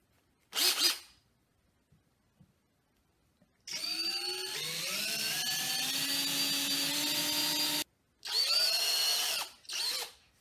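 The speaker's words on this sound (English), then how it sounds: "So let's begin drilling." A power drill boring a center hole in a piece of wood for a homemade wooden mace: a short whir, then a long steady drilling run with rising pitch, followed by two more short bursts, loud and close, with no talking.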